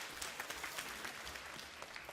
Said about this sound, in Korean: 우리 수고한 프로그에게 박수 한번 부탁합니다.